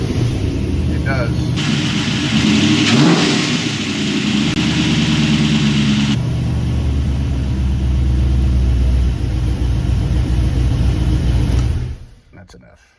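A GM LS V8 swapped into a square-body truck revs under throttle during a first-start test, a loud steady engine roar rising and holding for about ten seconds before cutting off, with voices speaking over it.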